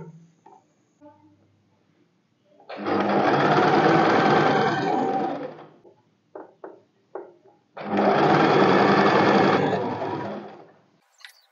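Sewing machine stitching pleats on a short kurti top, heard as two loud, close runs of rapid stitching of about three seconds each, with small handling clicks between them.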